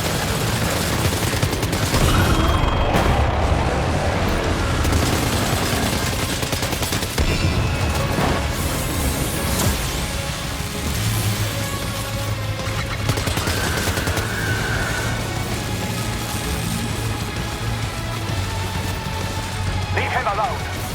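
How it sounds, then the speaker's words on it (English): Sustained gunfire and explosive crashes in the video game Death Stranding 2 during a fight with a large creature, loud and continuous over a steady low hum, with game voices talking over it. "Opening fire now."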